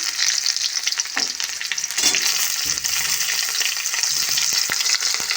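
Chopped onion sizzling in hot oil in a pan with small fish, a steady bright frying hiss close by, broken by scraping stirs and clatters of a spatula, with no talk.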